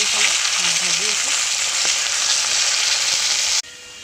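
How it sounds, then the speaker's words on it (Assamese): Pieces of rohu fish fry in a pan with a loud, steady hiss and crackle of hot oil, a faint voice briefly at the start, before the sizzle cuts off abruptly near the end. "এতিয়া ভাজি ল'ম এতিয়া ৰংগুৰা দি দিলোঁ এইফালে ভাজি আছোঁ"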